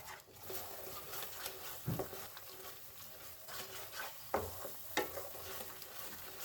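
Peas and mawa being stirred and cooked together in a pan, heard as quiet scraping and soft sizzling with a few sharper clicks of the utensil against the pan.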